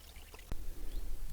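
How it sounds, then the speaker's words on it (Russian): A small stream flows beside a mountain trail near Akbulak, a soft, quiet trickle and babble of water with a faint thump early on, distant and low under gentle outdoor ambience. "Справа течет ручеек."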